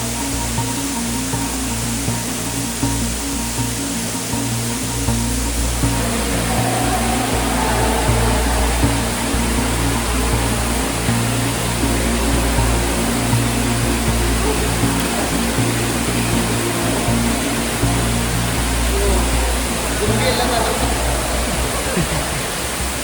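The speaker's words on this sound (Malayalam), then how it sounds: "എന്താ വെള്ളച്ചാട്ടമാണ്" A waterfall rushes inside Sumaguing Cave in the Philippines, a loud, unbroken roar of falling water that holds steady for the whole stretch with no voices over it.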